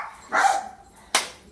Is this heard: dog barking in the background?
yes